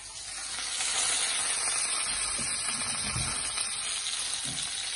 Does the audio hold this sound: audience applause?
no